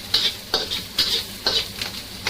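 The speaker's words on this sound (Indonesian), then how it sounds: "Setelah minyak panas, masukkan udang kering dan tirai salad. Tumis dulu hingga harum" Dried shrimp stir-fried in hot oil, sizzling steadily with about five sharp scraping strokes of a spatula at a regular half-second rhythm, close and fairly loud.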